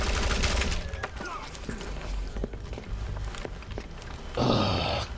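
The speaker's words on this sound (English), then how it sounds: "I have hated these machine guns ever since the OG." Machine gun fire in Splinter Cell: Chaos Theory, mission 5, a loud burst at the start and another near the end, with scattered shots and movement noise in between.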